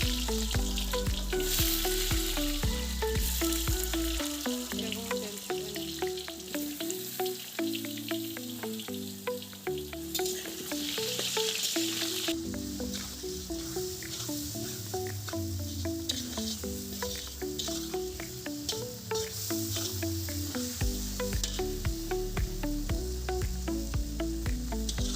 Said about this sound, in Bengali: মাটন হচ্ছে, তাও আবার কাঠের উনুনে